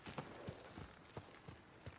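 Hooves of a horse in the game Xenoblade X, a series of distinct, evenly spaced clip-clops at a walking pace, faint and fairly close, with no talk over them.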